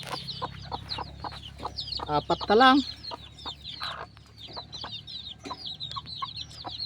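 Newly hatched chicks and grown chickens on a small farm, with clucking and a brief louder rooster-like call near the middle, amid scattered peeping and someone speaking now and then.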